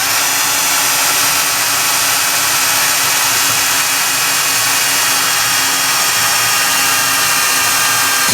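Power drill boring holes with a 2mm bit during repair of an NAD 2200PE amplifier, a loud, close, continuous high-pitched whine held steadily throughout.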